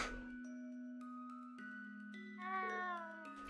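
A synthesized cat meows in a long, wavering call with a bending pitch near the end, layered over steady electronic musical tones, from the video game The Legend of Heroes: Trails of Cold Steel.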